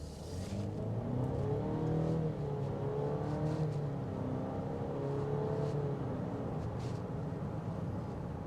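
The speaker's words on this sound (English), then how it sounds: "We're going to stop here and we're going to open up this turbo." A 2025 Cadillac XT6 with its turbo engine accelerating hard, a steady, loud engine drone rising in pitch throughout, heard from inside with no talking.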